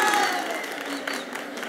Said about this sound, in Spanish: Aplausos por nuestro campusero número 2.